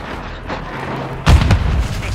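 A grenade explodes in Call of Duty: Modern Warfare II, a loud, heavy boom that hits about halfway through and rumbles over ongoing game noise and distant gunfire.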